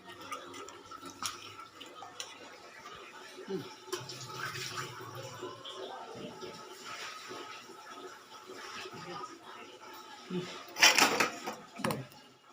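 Soft sloshing and dripping of bitter gourd being rubbed and rinsed in water, growing into a louder splash near the end, with low voices in the background.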